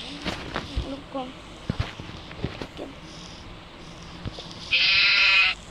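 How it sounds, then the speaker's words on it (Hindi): Goat bleating in a built-up setting, a loud sustained bleat standing out near the end after scattered knocks and faint background noise. "अरे बकरी कहाँ से आ गई भाई।"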